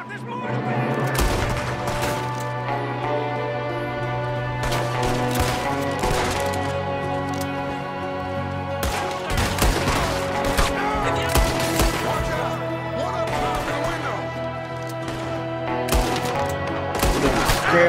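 Gunshots ring out in the video game Red Dead Redemption 2, in the opening Outlaws from the West mission. Sharp cracks come in scattered bursts over a tonal music bed, fairly close.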